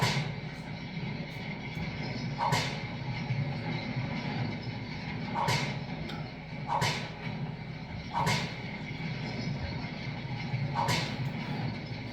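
Whips cracking in a courtyard over a low rumble of heavy wheels, five or six sharp snaps spaced a second or two apart against a steady background drone.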